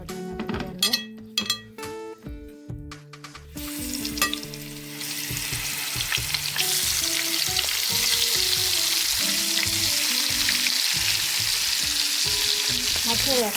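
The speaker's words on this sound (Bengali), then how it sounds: "প্রথমে আমি মাছগুলোকে একটু ফ্রাই করে নেব তেলে।" Hilsa fish pieces frying in hot oil in a pan; after a few clinks and knocks of utensils and cookware, a loud, steady sizzle builds and continues up close to the end.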